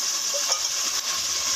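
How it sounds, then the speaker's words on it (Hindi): Spice masala frying in a pan for a potato and pea curry, a steady close sizzle and hiss that runs unbroken, with a faint clink or stir partway through. "ये देखिए हमारा मसाला भुन रहा है"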